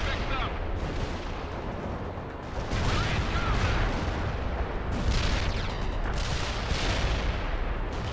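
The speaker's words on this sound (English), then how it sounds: "Heavy artillery barrage inbound" A heavy artillery barrage pounds the battlefield in the World in Conflict video game, a dense, continuous roar of shell blasts and gunfire that swells louder partway through.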